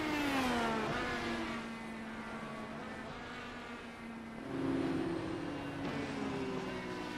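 An IndyCar engine in iRacing held high in the rev range at the Milwaukee Mile, a steady sustained whine with harmonic pitch sliding down then climbing again, loud and continuous with no talk.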